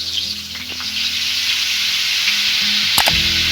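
Two tablespoons each of oil and butter sizzle steadily in a pan for pav bhaji, a close, continuous frying hiss with a brief clatter near the end.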